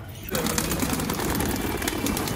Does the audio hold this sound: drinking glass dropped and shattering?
no